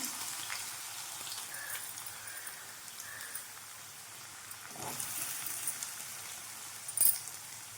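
Diced potatoes fry in hot oil with mustard seeds and curry leaves, giving a steady, fairly quiet sizzle with a faint clink near the end and no talking.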